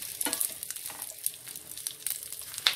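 Onions frying in a pan over a low-medium flame, with a soft crackling sizzle and a few light stirring scrapes, close and fairly quiet, no talking.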